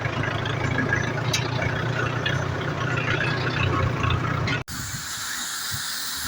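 A tractor idles on a sugarcane farm with a steady low mechanical hum and hiss mixed with running water, continuous for several seconds before a sudden brief dropout and a quieter, thinner drone.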